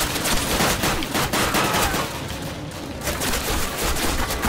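A flak cannon in a World War II shooter game fires continuous rapid bursts from close range, with dense repeated blasts and booming gunfire that carry on without pause for several seconds.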